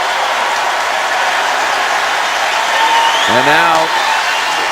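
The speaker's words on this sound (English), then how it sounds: "the applause for Raphael Davis, for Vince Edwards" Arena crowd at a 2016 Big Ten Tournament quarterfinal basketball game between Michigan and Purdue applauding the players, a steady loud roar of clapping and cheering throughout, with a commentator's voice briefly heard over it.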